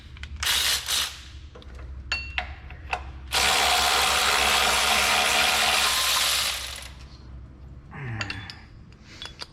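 A ratchet loosens the 19mm idler pulley nut on a Ford Ranger during a timing belt job, giving close rapid clicking bursts with pauses between them and a long steady ratcheting run in the middle.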